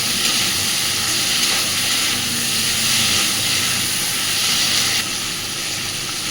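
Onion, tomato and potato fry hard in a pan for puti fish curry, giving a steady broad sizzling hiss that stays loud and even throughout, easing slightly near the end.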